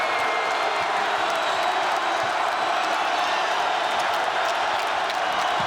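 Basketball arena crowd cheering loudly and steadily at a Wisconsin at Iowa game, a dense continuous roar with scattered whoops and no break.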